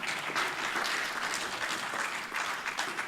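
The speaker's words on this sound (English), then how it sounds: "Please, a special round of applause for him." Steady applause from a crowd at a political forum in Nigeria, dense and continuous throughout, with no voices breaking through.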